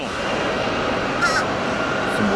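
A crow caws once or twice over a steady roar of airliner engines at Tampa airport, the calls brief and moderately clear above the continuous jet noise.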